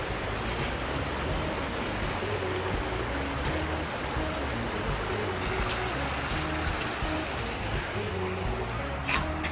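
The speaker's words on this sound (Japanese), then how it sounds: "こんな感じで川が流れてる。" River water flowing steadily in a rural valley in Shimane, Japan, a continuous broad rushing wash with no breaks, heard from nearby at moderate level.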